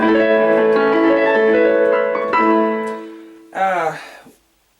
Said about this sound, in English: Here's a major chord